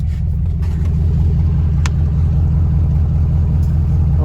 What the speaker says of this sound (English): I'm gonna put it in reverse and let go of the brake.